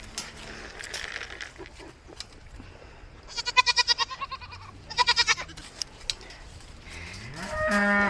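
Goats bleat in two quavering, pulsing bursts over a low background rumble, fairly close by, with no talking.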